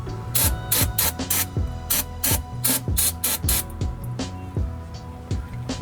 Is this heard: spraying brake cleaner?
yes